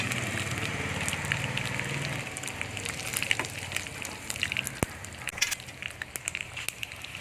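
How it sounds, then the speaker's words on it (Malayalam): Dried red chillies dropped into hot oil with mustard seeds, giving a steady hiss with sharp scattered crackles and pops, close and moderately loud, with no voices. "ഇതിലോട്ട് നമുക്ക് ഈ വറ്റൽമുളക് ഇട്ട് കൊടുക്കാം."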